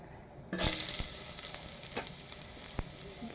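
Garlic hits a hot pan and bursts into a sudden loud sizzle that settles into steady frying, with a few sharp clicks of stirring; no one talks.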